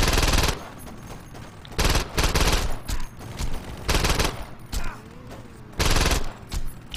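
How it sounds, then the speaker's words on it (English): Shotgun blasts in Saints Row 2, a string of loud, broadband bursts fired in bursts with short gaps, heavy and close, with game ambience between shots and no talk. "Well, I'm using a shotgun for this."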